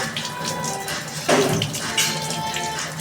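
Tap water runs steadily to rinse dishes just scrubbed with Vim gel and Surf, a close, continuous rushing splash with a brief louder surge partway through.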